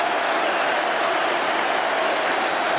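A cricket crowd at a 2005 Ashes Test between England and Australia applauds and cheers a wicket, a dense, steady roar of clapping held loud and unbroken throughout.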